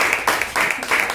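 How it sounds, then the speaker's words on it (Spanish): A church congregation claps together as an offering of applause to God, a dense, steady wash of many hands in a large room that swells and dips in waves throughout. "¿Por qué no le damos una ofrenda de palmas al Señor?"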